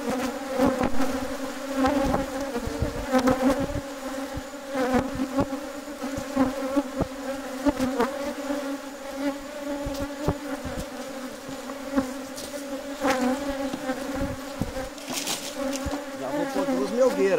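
Honeybee swarm buzzing at an open beehive whose frames are full of honey, a dense steady hum near the listener with scattered clicks and handling knocks, and no talk.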